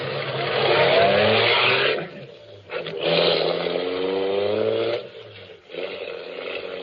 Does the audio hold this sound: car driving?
yes